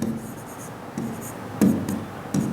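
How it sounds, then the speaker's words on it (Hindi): Pen or marker scratching out a Pythagorean theorem equation by hand, a few short strokes and taps against a board or page, close and fairly quiet. "चूँकि पाइथागोरस का प्रमेय करेंगे तो लिखेंगे AB स्क्वायर"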